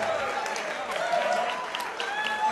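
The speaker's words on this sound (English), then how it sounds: "how about another round of applause for Jan Daly?" Applause for Dean Mora's orchestra at the Cicada Club, a brief burst of audience clapping that sounds moderately distant, mixed with crowd noise and light talk.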